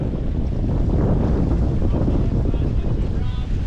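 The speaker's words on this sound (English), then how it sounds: "It's pretty blowy" Strong wind roaring across the microphone on a fishing boat at sea in choppy, cyclonic waters, a loud continuous low rumble and buffeting with no clear pauses.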